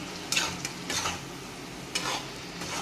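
Spoon scraping and stirring chicken gravy with added water in a pan, a few short bursts of scraping strokes with quiet pauses between them, close by.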